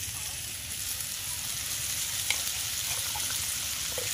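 Spices sizzle and fry steadily in a pan for a fish curry with potatoes, with faint scraping stirs and a few small clinks over the continuous hiss.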